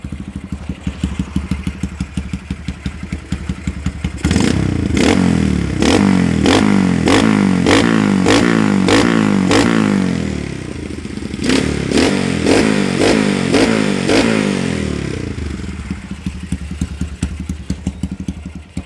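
Honda CRF Mega Pro single-cylinder motorcycle with a custom Purbalingga exhaust idles with a steady thumping pulse, then revs loudly and repeatedly in two bursts before settling back to idle, close by.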